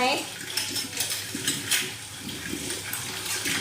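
Bowls and dishes are washed by hand, with close, irregular clinks and knocks of crockery over a light wash of running water.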